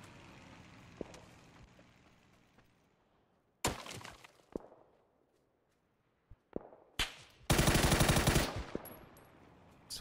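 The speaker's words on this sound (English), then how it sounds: "this Orm guy trying to shoot me?" Gunfire in PUBG on console: scattered sharp shots and cracks, several distant, with a loud burst near the middle and a dense, loud volley toward the end, separated by quiet gaps.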